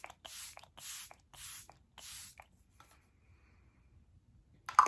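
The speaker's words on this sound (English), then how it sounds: "setting spray, and that's the Dewy Coconut Setting Mist" Dewy coconut setting mist spritzed from a pump sprayer, four soft, even hissing bursts in quick succession, close and quiet, followed by silence and a faint tap at the end.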